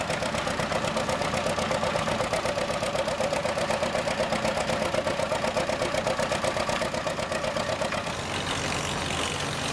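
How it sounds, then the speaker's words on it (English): A 1940s Farmall tractor engine runs steadily at a fast, even idle, a loud continuous mechanical chug with rapid regular firing pulses throughout and a slight change near the end. "That is a beautiful tractor."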